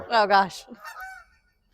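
Geese honk loudly in a close flyover, two strong calls followed by fainter honks trailing away, with a brief spoken exclamation near the end.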